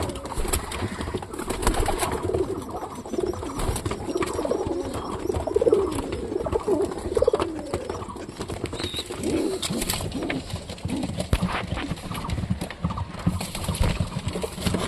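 Domestic pigeons coo steadily around their nests, with soft rustling and shuffling throughout and no voices.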